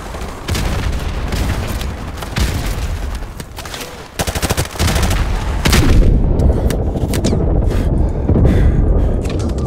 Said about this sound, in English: they're shooting rockets